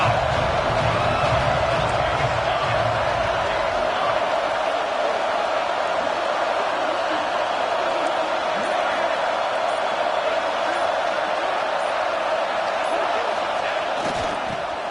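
Football stadium crowd roars steadily during a third-and-goal defensive stand, a loud, continuous wash of cheering and noise that holds for the whole stretch without letting up.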